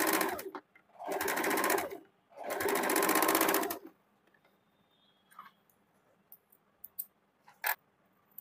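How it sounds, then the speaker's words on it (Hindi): Two bursts of a sewing machine stitching a curved seam in saree fabric for a kurti, each running about a second and a half, followed by quiet fabric handling and a few light clicks. "अभी इसको ½ इंच पे गोलाई में सिल देंगे।"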